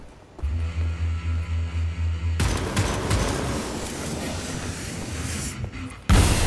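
A laser gun fires in the shooter game Wolfenstein: The New Order, starting as a low pulsing hum and then breaking into a loud, continuous roaring blast of sustained fire, with a fresh burst at the very end.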